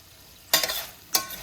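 Green beans in a skillet over medium-high heat get two quick scraping stirs, each a bright rasping burst over a low steady simmer, close and without talk.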